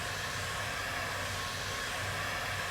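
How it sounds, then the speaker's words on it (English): A heat gun blows hot air onto flexible wooden moulding, giving a steady close rushing whoosh with no break throughout. "once I turn my heat gun on and apply some heat to it"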